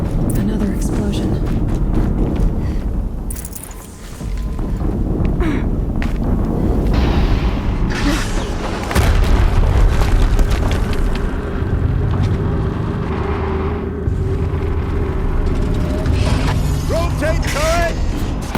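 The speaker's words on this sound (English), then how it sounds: "Another explosion." Explosions and mechanical clanks from the video game Horizon Zero Dawn, loud booms and rumbling bursts layered with game effects and a voice, filling the soundscape continuously throughout.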